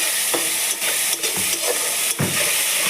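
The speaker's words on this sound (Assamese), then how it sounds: "এতিয়া বিলাহীখিনি অলপ ভাজি লওঁ" Chopped tomatoes frying in a pan, a continuous loud sizzle with a few scraping stirs of a spatula, no talking.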